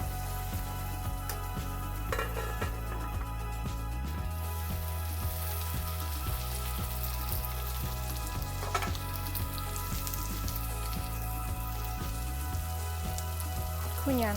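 A bean and pea mixture sizzles steadily in a hot pan, a dense continuous frying crackle with occasional stirring scrapes, close and fairly loud, with no talking.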